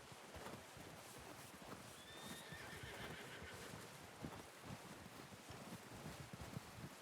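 A horse gives a single high whinny over soft wind and faint clopping hooves, heard fairly quietly and at a distance, in the video game Red Dead Redemption 2.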